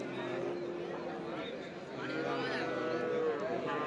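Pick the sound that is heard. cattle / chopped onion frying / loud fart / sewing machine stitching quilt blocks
cattle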